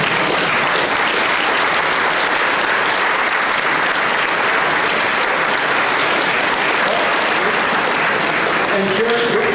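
Applause from an audience for the rabbis at a synagogue closing event, a dense, loud and steady clapping that fills the room from start to finish.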